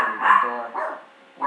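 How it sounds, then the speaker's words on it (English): Dogs bark and yip at a door indoors, a couple of close, loud barks with a short pause between them. "just the dogs are hitting the door."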